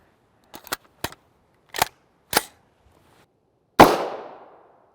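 A CMMG MK57 with an 8-inch barrel fires 5.7x28mm rounds. About six sharp, cracking reports come at irregular spacing, and the last is the loudest, with a ringing tail that fades over a second.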